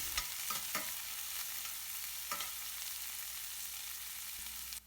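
A medium white onion frying in a pan for veg biryani, a steady soft sizzle with a few light stirring scrapes and clicks, close and continuous.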